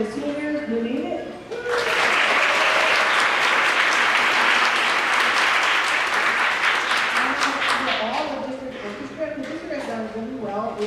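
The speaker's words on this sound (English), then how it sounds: "Again, a round of applause for the seniors who made it" A voice speaks briefly, then a crowd at a district orchestra concert at an arts festival bursts into loud, dense clapping that holds for several seconds before thinning out as talking resumes.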